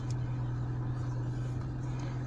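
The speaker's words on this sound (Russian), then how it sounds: "Я машину завел, чтобы с усилителем руля." A Lada Kalina 2 engine idling after start with power steering running, a steady low hum throughout, alone and moderately close.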